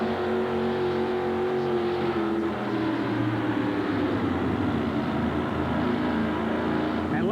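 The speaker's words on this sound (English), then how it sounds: "And Les, how you can see they pulled that engine right down. He flat ran out of power" A new Chevrolet pickup engine roars steadily at high revs in a truck pull, a loud continuous drone that sags slightly in pitch partway through as it bogs down under load.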